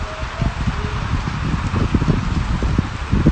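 Heavy rain pours down on a farm in the Brazilian backcountry, a dense, steady hiss of drops with constant patter close by and no voices.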